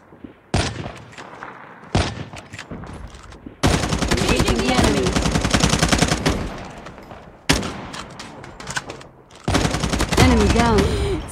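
Bursts of automatic gunfire in the mobile shooter game Call of Duty Mobile, rapid and loud, broken by short pauses, with players talking between and over the shots.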